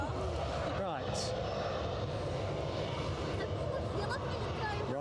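A Ryanair airliner taking off at Edinburgh Airport, a constant heavy engine roar filling the background, steady and loud, with faint voices underneath.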